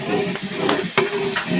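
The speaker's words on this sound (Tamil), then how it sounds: "நல்லா அடி பிடிக்காமல் நல்லா பதமாகவே நல்லா வதக்கி எடுத்துக்கணும்" Food sautés in a pan with soft sizzling while a spoon stirs and scrapes in short strokes, a few clinks of the utensil against the pan standing out close by.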